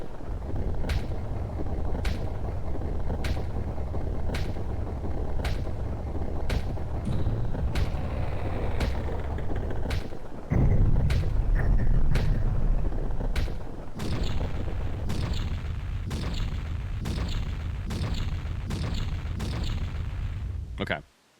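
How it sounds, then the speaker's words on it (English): Fireworks burst in The Legend of Zelda: Majora's Mask at midnight: sharp booming pops repeat at a steady pace across the scene over a dense, rumbling game soundtrack, with one deeper, louder blast midway. "Fireworks."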